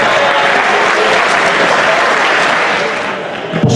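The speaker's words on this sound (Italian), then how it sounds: "facciamogli un applauso." Loud, dense applause from a crowd at a 2018 year-end party, celebrating a guest's birthday. The clapping is steady and sustained, with some voices mixed in, before it thins out near the end.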